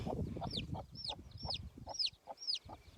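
An upset farm hen clucks repeatedly after her chick is taken, giving five or six sharp rising calls in a steady rhythm, close and clear over low rustling background noise.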